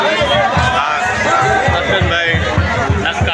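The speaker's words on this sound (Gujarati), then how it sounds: "અરે હા ભાઈ ભાઈ મોજ ભીડભાડ છે લોકોની જબરજસ્ત હજારોની સંખ્યામાં" Huge crowd of thousands at a Bawri community gathering in Ahmedabad, a dense continuous babble of chatter close by, with a nearby voice talking over it.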